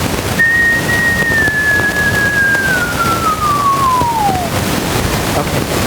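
A single clean whistle holds a steady high pitch, then glides smoothly downward over about four seconds, standing out clearly above a constant low background hiss.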